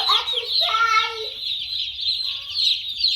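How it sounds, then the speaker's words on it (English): Baby chicks in a brooder chirp continuously in high, rapid peeps, several birds overlapping close by with no talking. "You can hear them chirping from outside."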